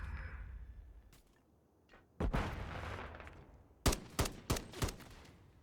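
Several sharp MCW rifle shots ring out on a video game firing range, a single crack followed by a rapid string of four close, loud reports with short tails.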